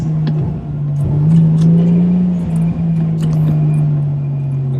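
A 1999 Toyota Aristo V300 engine holds a loud, steady rev close by, its exhaust rumbling continuously with a few sharp crackles and pops scattered through the note.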